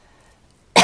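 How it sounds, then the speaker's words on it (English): A single sharp cough bursts loudly at the very end after near silence. "Excuse me, I'm still coughing."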